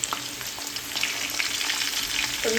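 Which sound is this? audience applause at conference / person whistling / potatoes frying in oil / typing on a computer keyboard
potatoes frying in oil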